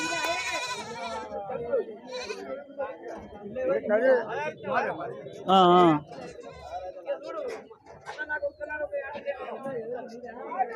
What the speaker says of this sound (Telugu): ఎన్ని ఉన్నాయి మేకపిల్లలు మొత్తం ఇలా